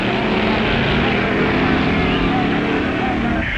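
Phil's A/Gas class drag racing car, nicknamed Grandma, roars steadily at close range at a 1959 drag racing meet, a dense, loud engine drone filling the whole stretch without a break.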